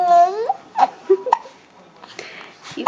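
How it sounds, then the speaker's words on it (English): A baby hiccups and babbles at home during toy play, with short abrupt vocal bursts spaced through the moment and an adult voice talking softly around them. "You got the hiccups."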